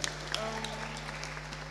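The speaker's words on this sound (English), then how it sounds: "Give the head girl a round of applause" A school audience claps for the head girl at a forum, a short, fairly faint scatter of applause over a steady electrical hum.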